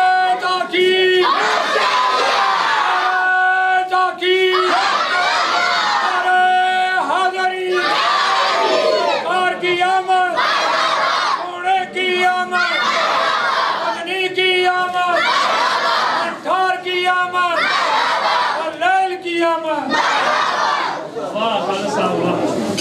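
At a 12 Rabi ul Awwal procession, a crowd shouts responses in unison to a leader's slogans, loud repeated call-and-response bursts across the whole stretch.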